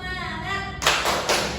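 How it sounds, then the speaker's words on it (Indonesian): A primary school class performs a rhythmic spirit-clapping routine in a classroom. A few sharp, fairly close bursts of clapping start partway through and stop in a short pattern. "mari kita melakukan tepuk semangat"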